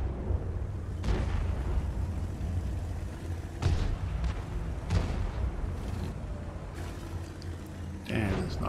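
Tank cannon fire in the World of Tanks video game, several booming shots spaced a second or so apart over a constant rumbling engine and battle backdrop.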